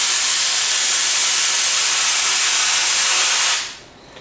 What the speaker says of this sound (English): I take some brake clean, I blow the living daylight out of it and try to clean that